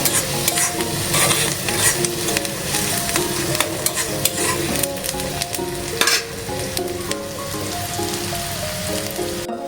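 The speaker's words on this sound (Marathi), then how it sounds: "बघा, कांदा छान परतलेला आहे।" Onions sizzle steadily in a hot pan for a Janmashtami drumstick leaf bhaji, with a spoon stirring and scraping through the constant crackle, close and continuous, no voices.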